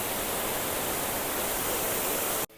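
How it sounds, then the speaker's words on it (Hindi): Bee Falls, a waterfall in Pachmarhi reached after descending 380 steps, roars as a dense, loud, unbroken hiss of falling water, close by, with no voices, ending abruptly. "सामने से गिरता हुआ झरना सच में माइंड ब्लोइंग था"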